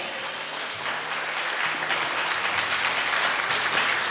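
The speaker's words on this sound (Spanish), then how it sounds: "Está dándole el aplauso al rey." A church congregation breaks into dense, continuous applause that fills the space evenly for several seconds, with no speech over it.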